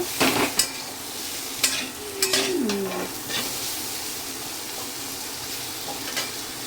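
Grated radish being stir-fried with salt in a pan, a soft steady sizzle broken by several sharp scrapes and clatters of a spatula against the metal, close by, with no talking.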